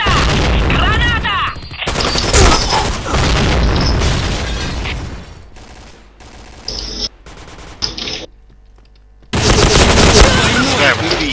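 Grenade explosions and gunfire in the online shooter Point Blank: loud bursts of rapid shots and heavy booms, broken by short quieter gaps, with a voice shouting over parts of the action.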